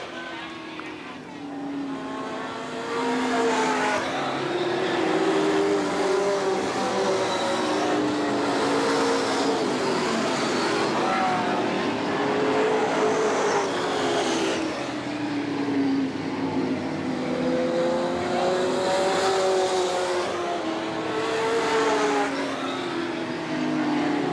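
Race cars roar around the oval at Eugene Speedway in a steady, loud engine drone with rising and falling revs as they pass, while an announcer calls the race throughout.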